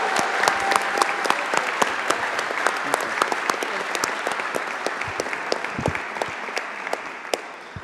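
Audience at City Hall gives a sustained round of applause for a Student Government Day, dense steady clapping from many hands throughout, moderately loud with no speech over it.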